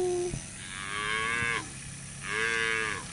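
Brangus cows in a group of females at a cattle sale, two loud, drawn-out moos close by, separated by a short pause, with no talk over them.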